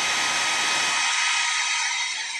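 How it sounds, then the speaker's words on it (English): A hair dryer blowing steadily as a makeshift fan, a loud continuous broadband whoosh held close to the microphone for the whole stretch, with no voices. "I have to use my hairdryer"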